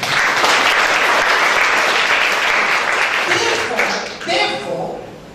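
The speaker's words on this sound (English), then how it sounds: "Give a clap offering to Jesus" A church congregation at an English-language Sunday service gives a loud, sustained clap offering, thick continuous clapping that thins and trails off near the end.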